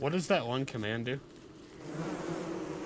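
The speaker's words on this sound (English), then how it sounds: "can these bees stop attacking already?" Bees attacking in Don't Starve Together make a buzzing swarm drone that rises after a man's brief question and continues steadily, close and moderately loud.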